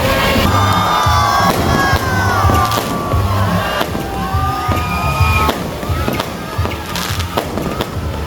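Fireworks crackle and pop repeatedly amid a loud, shouting crowd at an outdoor Independence Day celebration on 14 August, with whistling rockets and cheering voices mixed throughout.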